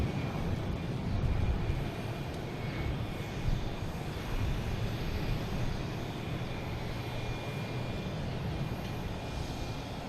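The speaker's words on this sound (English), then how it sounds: "An A319." An American Airlines Airbus A319 jet at Boston Logan Airport, its engines producing a loud, steady broadband roar that swells slightly and holds throughout, close and continuous with no talk.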